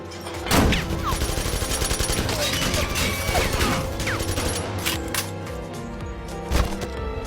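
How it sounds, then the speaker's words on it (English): A gunfight in a movie scene erupts in a dense volley of gunfire, sharp cracks and bursts layered over a busy mix, with a couple of louder shots standing out near the start and end. "Until this day, he witnessed a gunfight."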